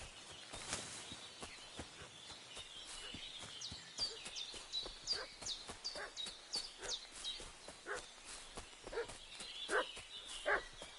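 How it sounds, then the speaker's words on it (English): Dogs bark repeatedly in a village in the medieval video game Kingdom Come: Deliverance II, sharp uneven barks and yips continuing for about eleven seconds at moderate distance over a soft ambient background. "What's that dog making such a fuss about?"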